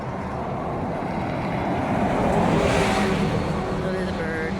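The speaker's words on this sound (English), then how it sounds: "Oh, there's a bus coming." A city bus passes close by outdoors, its broad engine and road rumble swelling to a peak midway and then easing, with wind buffeting the microphone throughout.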